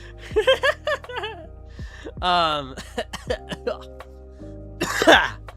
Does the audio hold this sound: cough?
yes